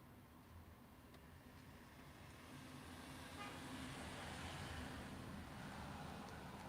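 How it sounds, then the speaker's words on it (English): Cars passing by outdoors, a faint, continuous traffic hiss and rumble that grows slightly louder midway through, with no voices. "We're gonna be dealing with a lot of cars driving by noise, I'm afraid."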